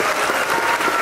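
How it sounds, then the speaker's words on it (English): Audience applause at a live Pixar music show at Disney's Hollywood Studios, a steady, dense wash of clapping filling the whole moment without a break. "Give them a round of applause."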